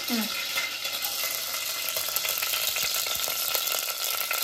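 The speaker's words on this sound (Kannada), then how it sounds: "ಈಗ ಒಗ್ಗರಣೆಗೂ 1 2 ಸ್ಪೂನ್ಸ್ ತುಪ್ಪ ಹಾಕ್ತಾ ಇದ್ದಾರೆ." Whole spices sizzle in hot ghee as they temper in a pan for mushroom biryani, a steady bright crackle with soft stirring scrapes throughout.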